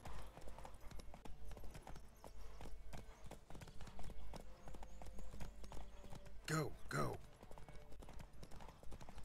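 Horse hooves clip-clop steadily in The Witcher 3: Wild Hunt, a galloping rhythm heard fairly close, with game music, a brief whinny-like burst and a voice talking over it.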